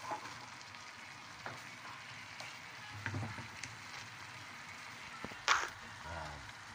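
Chicken liver and heart fry in a pan for chop suey, giving a soft, steady sizzle with a brief sharp clatter near the end.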